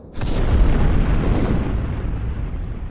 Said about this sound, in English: Big old sponsor bomb coming through.